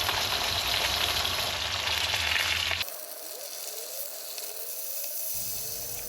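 Pork belly chicharrones fry in hot grease in a pan over an open fire, a loud steady sizzle that abruptly drops to a quieter crackle partway through.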